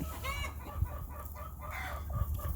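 Several chickens, including Wyandottes and two roosters, cluck and chatter close by in a busy, continuous flock, with no talking over them.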